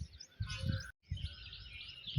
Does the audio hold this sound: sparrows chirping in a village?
yes